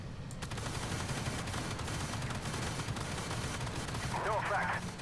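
A separate autocannon firing in a French tank video game, rapid repeated shots rattling over low engine rumble, with a voice speaking briefly near the end.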